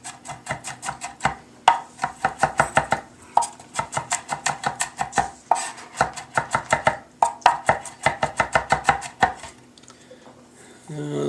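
A knife mincing garlic on a cutting board: rapid, crisp rhythmic chops in bursts of many quick strikes with brief pauses between, close and loud, no talking.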